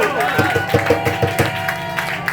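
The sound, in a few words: audience clapping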